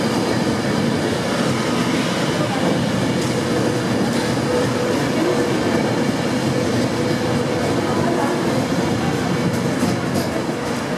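A Class 390 electric train, unit 390130, departs for London Euston with a steady, loud rolling rumble of wheels and carriages. The sound is continuous for the whole stretch, with faint clicks and no speech.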